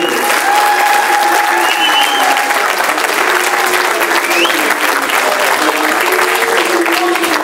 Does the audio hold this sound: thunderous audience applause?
yes